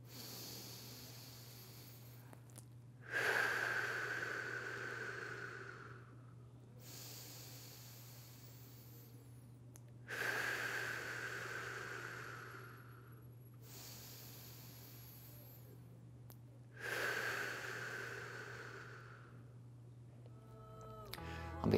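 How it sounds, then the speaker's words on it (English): Three slow, deliberate breaths drawn in through the nose, each a soft rising hiss followed by a longer exhale, spaced evenly over a faint steady hum. "3 breaths in through the nose."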